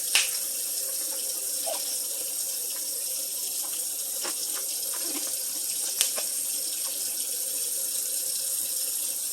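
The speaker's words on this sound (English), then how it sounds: "I'm going to rinse off all the beef first." A kitchen sink sprayer runs a steady stream of water to rinse raw beef, a constant close hiss of spray with a few faint knocks against the sink.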